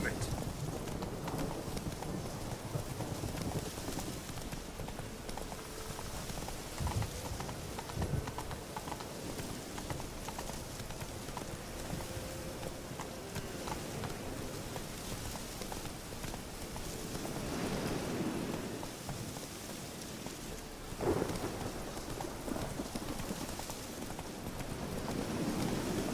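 The horse Roach from The Witcher 3 video game gallops through rain, a quick continuous clip-clop of hooves over a soft patter of rainfall and wind, with a rider's voice calling out briefly.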